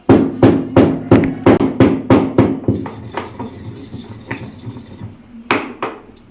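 Dry ginger being pounded coarsely in a mortar for dry-ginger coffee: a fast, steady run of about a dozen loud, close, hard thuds, then a pause and a few scattered knocks at the end.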